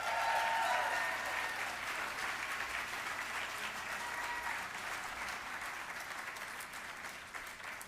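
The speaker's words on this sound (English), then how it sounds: "Thank you for sharing that applause." A room full of people applauds at an awards celebration, a broad continuous wash of clapping that starts loud and gradually thins, with faint voices mixed in.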